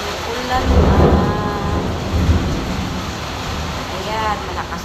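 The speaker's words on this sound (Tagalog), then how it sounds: "malakas na naman ang ulan." Heavy rain pours steadily outdoors as thunder rolls low in the distance, a constant wash of noise with a voice speaking briefly over it.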